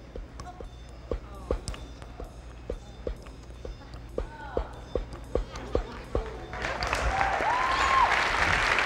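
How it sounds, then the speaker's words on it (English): A live audience claps for a juggling act on a stage, with scattered sharp claps in a loose rhythm that swell into dense, loud applause near the end, while someone speaks over it. "don't clap if I miss"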